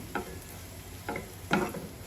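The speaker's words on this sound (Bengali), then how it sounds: "আমি পেঁয়াজগুলো ভেজে নিচ্ছি" Onions frying in a pan for an accompaniment to fried koi fish, a soft continuous sizzle broken by three short stirring scrapes, close by, with no talking.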